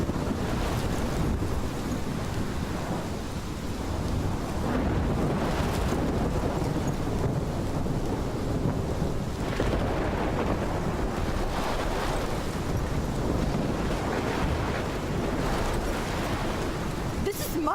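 Roaring storm in Life is Strange, with crashing waves and howling wind forming a dense, loud, unbroken wash throughout, and no talk.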